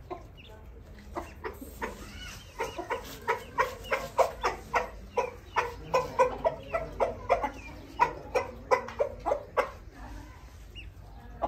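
Chickens cluck busily in a rapid, uneven chorus of short calls while being fed grain in a village yard, fairly close and moderately loud.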